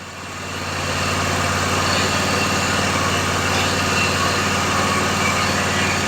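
The engine of a Toro Z580 zero turn mower idles in a steady, close, even drone with a low pulsing hum, holding constant while a drive wheel slows.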